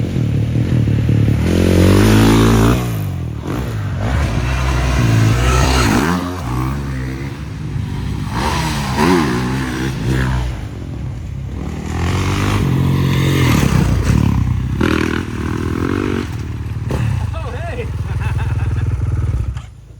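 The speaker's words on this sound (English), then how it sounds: "Thank you so much, Chance, for letting me ride your dirt bike again, man." A dirt bike ridden around a rural property revs and accelerates up close in loud, surging bursts, with clatter from the ride and voices talking over it.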